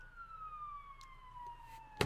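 A police car siren wails on a slowly falling tone, faint and distant, and a sharp knock cuts in at the end.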